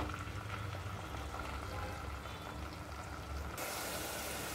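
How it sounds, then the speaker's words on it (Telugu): Onions and green chillies frying in hot oil in a clay pot over a medium flame, giving a steady, dense sizzle and bubbling crackle that runs unbroken throughout with no voices. "ఇప్పుడు ఉల్లిపాయలు పచ్చిమిరకాయలు వేసేసుకుందాం మీడియం ఫ్లేమ్లో పెట్టుకుని ఇలా వేసుకుందాం"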